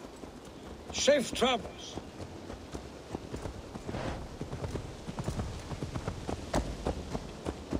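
Horse hooves clip-clop in the Assassin's Creed Valhalla video game, a steady rhythmic trot heard under and between bursts of character dialogue.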